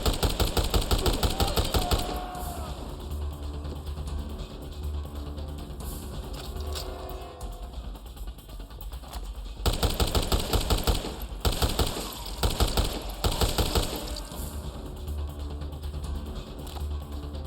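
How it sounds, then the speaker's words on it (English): Sustained assault rifle fire from the Dead Rising Deluxe Remaster game, bursts of rapid, loud automatic shots that continue through most of the stretch, easing to a thinner rattle midway before heavy bursts return, with faint talk underneath. "get one of their assault rifles and then start shooting them at a distance"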